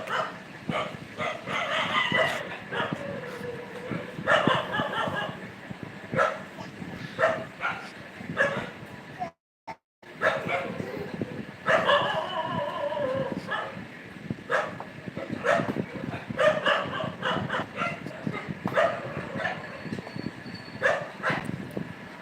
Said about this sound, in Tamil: நாய் கத்து